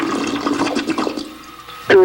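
A toilet flushes close by, with water rushing and gurgling for about a second and a half, then a short squeaky toy frog sound at the end.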